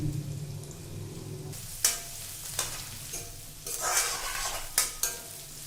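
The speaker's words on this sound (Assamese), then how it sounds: "তেল গৰম হোৱাৰ লগে লগে আমি ইয়াত পিঁয়াজ আৰু জলকীয়াখিনি দি দিম।" Onions, chilies, cumin and cardamom frying in hot oil, crackling and sizzling with bursts of louder spitting as a spoon stirs and taps against the pan.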